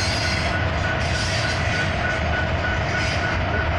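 A Union Pacific manifest freight train with coal and intermodal cars rolls past in San Antonio, Texas, a loud, close, continuous rumble of wheels and cars with faint rhythmic clatter and light squeal.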